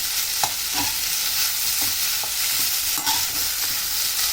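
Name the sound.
stirring vegetables in a pan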